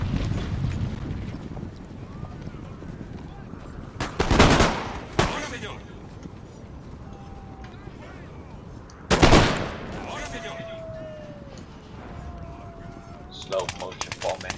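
Gunfire rings out in a video game battle: three loud, sharp volleys arrive several seconds apart, with quieter rumbling and faint tonal game sounds filling the gaps between them.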